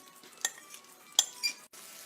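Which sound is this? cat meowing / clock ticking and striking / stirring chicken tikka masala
stirring chicken tikka masala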